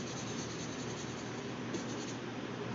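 Pencil drawing on paper makes a faint, steady, close scratching and rubbing with no breaks or talk.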